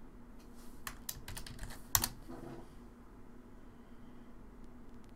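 Keystrokes on a computer keyboard come in a short burst of clicks with a sharper clack near the middle, then fade into a steady low hum of background noise, with no talking.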